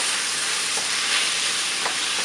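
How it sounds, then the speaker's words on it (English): Ginger garlic paste frying in a pan for homemade chicken puffs, a steady, dense sizzle that holds evenly throughout with a couple of faint clicks, no voices. "and I will fry it well"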